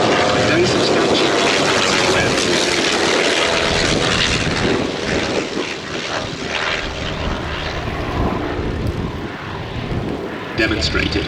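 Bristol F.2 biplane at an airshow, its piston engine droning steadily and fairly loud throughout, with a commentator's voice talking over it.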